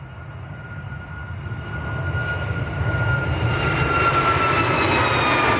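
A Jet2 airliner rolls for takeoff at Manchester Airport, its jet engines rising into a steady, loud roar that builds over several seconds, heard from a distance with no voices.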